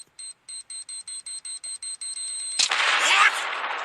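Electronic bomb timer in a game chirps in short regular beeps that quicken toward the end, then a loud burst of noise cuts in, apparently the blast.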